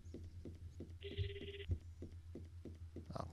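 A phone rings in the horror video game Follow the Darkness, a bright electronic warble repeating over about half a second, heard once clearly over a steady low hum and soft rhythmic footstep-like thuds.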